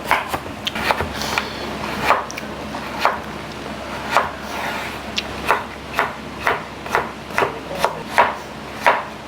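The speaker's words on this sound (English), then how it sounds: "Next, we'll be slicing our carrots." A knife slices carrots on a cutting board for a beef stir fry, making a steady run of about a dozen crisp, evenly spaced chops close up, with no talking.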